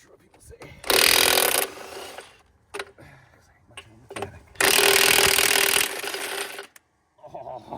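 An impact wrench with a chrome socket and adapter rattles off wheel lug nuts from a loader tire, two long loud hammering bursts broken by clanks, shuffling and brief handling noises.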